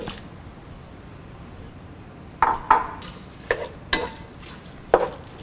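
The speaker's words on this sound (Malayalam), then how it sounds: "ഇതിലോട്ട് എടുത്തു വച്ചിരിക്കുന്ന ടൊമാറ്റോ ഇട്ട് വഴറ്റുക" Tomatoes sauté in a pan with meat masala powder for beef peralan, a soft steady sizzle broken by several close, sharp clinks of a spoon scraping and stirring against the pan.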